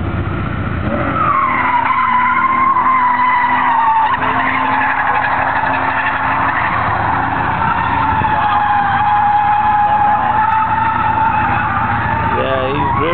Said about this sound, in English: Yeah, he's drifting.